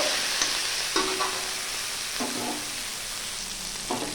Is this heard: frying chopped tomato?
yes